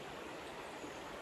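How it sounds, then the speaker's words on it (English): Waterfall on the Ingleton Waterfall Trail in the Yorkshire Dales, heard as a faint, even broadband rush of falling water, steady and unbroken with no voices. "we found our first waterfall"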